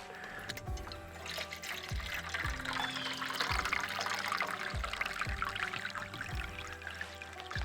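Water pours from a bottle into a camping cook kit at a steady, continuous trickle and splash, close and moderately loud, with faint thuds underneath.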